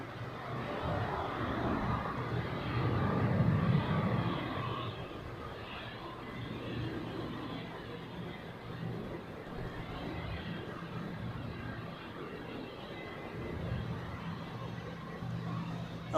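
A Bombardier Challenger 300 business jet comes in at Zurich Airport, a moderate steady jet rumble that swells briefly early on and then settles into a lower, even drone.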